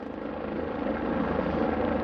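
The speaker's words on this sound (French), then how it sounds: "on part avec l'hélicoptère, donc l'hélicoptère c'est dangereux" A gendarmerie mountain rescue helicopter flies close by, its rotor chop and turbine whine loud and steady throughout with no talk.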